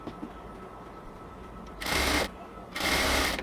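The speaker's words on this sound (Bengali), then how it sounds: "ঠিক একদিক থেকে ইলাস্টিক টেনে টেনে পুরো কোমরের মধ্যে আমরা সেলাই করে নেব।" A sewing machine runs in two short bursts, stitching elastic into the waistband of a baby's short pants, each burst a steady, close whir separated by a brief pause.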